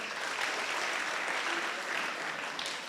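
Audience at a school annual day clapping for students who earned straight A's: dense, continuous applause from a large crowd, steady and fairly loud from start to finish.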